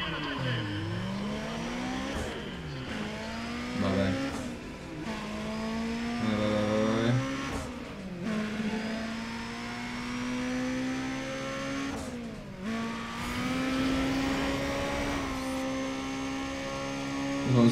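An Audi S3 tuned to 700 HP in Need for Speed ProStreet revs hard and continuously, the engine note climbing and dropping through repeated gear shifts with short breaks between pulls, loud and alone.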